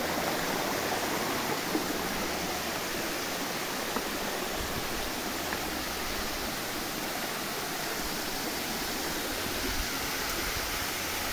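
Serra Velha waterfall in Igrejinha, Rio Grande do Sul, Brazil, pours in a constant, broad roaring rush, close and loud, with no voices over it.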